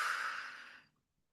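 One slow exhale of breath during a guided breathing exercise, a soft airy rush that fades away within a second into silence, close and quiet.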